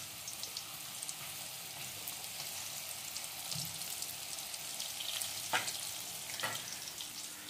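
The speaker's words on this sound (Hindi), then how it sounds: "तो जब ये इसमें डाल देंगे तो हल्की आंच पर आपने इसे पकाना शुरू कर देना है।" Potato rolls fry in oil in a wok over low heat, giving a steady soft sizzle throughout with a few faint stirring clicks near the end. No one speaks.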